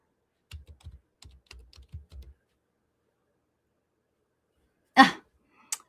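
Quick clusters of keystrokes on a computer keyboard, close and fairly quiet, tapping in short uneven bursts for about two seconds, then silence, a sharp louder knock and one last faint click.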